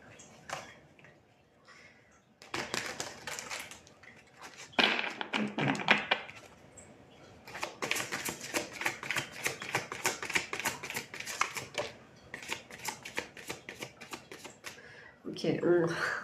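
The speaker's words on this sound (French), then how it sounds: "Il faut que je tire des cartes comme ça." Tarot cards being drawn and handled, giving bursts of crisp shuffling, tapping and flicking in several clusters, close and fairly quiet, with a voice briefly heard.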